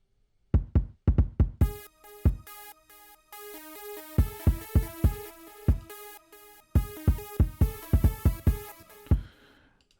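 A replaced drum sample in Logic Pro X plays back as a punchy kick and snare pattern with hits in quick groups, alongside a sustained synth or keyboard line, loud and clean with no talking.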